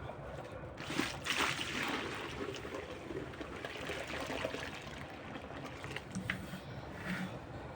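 Water trickles and splashes steadily as it is poured into a container with vinegar and soap for cleaning a greenhouse, with faint handling noises and no talking.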